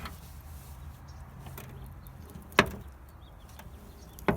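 A worn door check on a second-generation Toyota Prius door catches with two sharp clunks, one mid-clip and one at the very end, against a quiet background hum.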